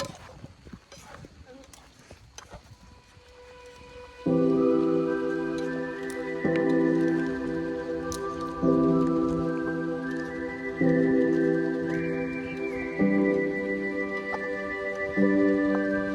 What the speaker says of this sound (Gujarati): જો તમે વરસાદે ચાલુ એટલે આપણે બધા છત્રીમાં આવી જઈએ